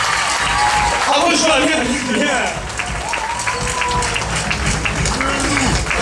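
Sustained applause from the audience at the Miss Cazeres 2012 pageant final as a Minimiss runner-up is named, steady clapping throughout with a presenter and others talking over it.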